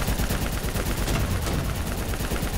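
Dense, continuous gunfire from the video game Call of Duty Black Ops 3, loud rapid automatic bursts filling the whole stretch with no talking.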